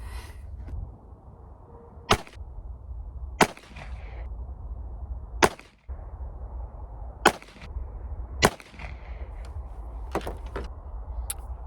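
Sharp gunshots from an NAA Sidewinder .22 Magnum revolver at a 25-yard range, seven distinct cracks spaced a second or two apart over a steady outdoor background rumble.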